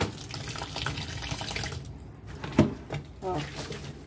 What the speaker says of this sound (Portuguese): Vou jogar um pouco de água.